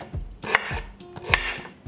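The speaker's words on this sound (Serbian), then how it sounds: "I iseckat ću đumbir." A knife chopping ginger on a board, a few sharp, close cuts spaced irregularly with no voices.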